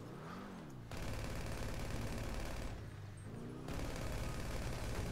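Sustained rapid gunfire from GTA 5 Online, loud and continuous across the whole stretch, with dense bursts that swell and ease slightly with no pause.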